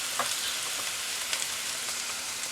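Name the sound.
bitter melon stir-frying in a lot of oil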